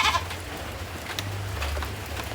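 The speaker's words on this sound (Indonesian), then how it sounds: "Dia emang ini kambing Inggris." An English goat bleats in a short, wavering call close by, over a low steady hum and faint background noise.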